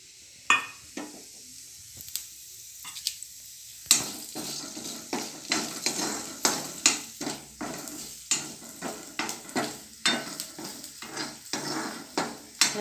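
Whole spices are dry-roasted for chana bhaji and stirred constantly in a hot pan, with repeated rhythmic scrapes and rattles over a light sizzle, close and clear.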